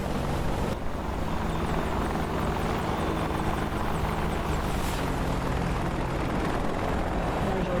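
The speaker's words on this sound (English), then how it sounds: "There's the two Chinooks off to our left." Two Chinook helicopters fly past in an Apache helicopter combat video game, a steady loud rotor drone with engine whine holding throughout.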